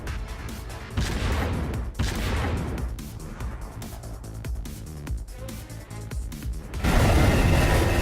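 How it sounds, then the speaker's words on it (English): Space combat weapons fire in the video game Freespace Blue: War in Heaven, a dense barrage of booming laser and cannon bursts and crashing hits, loud and continuous, swelling into a heavier roar near the end. "Arathusa has opened fire."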